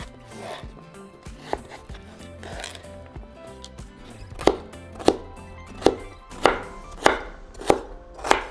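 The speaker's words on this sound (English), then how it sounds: "start cutting into little squares as well. So do the same to the whole carrot" A knife chops a carrot into small squares on a cutting board, starting with soft irregular cuts and settling into a steady run of crisp, evenly spaced thuds, close and clear with no talk.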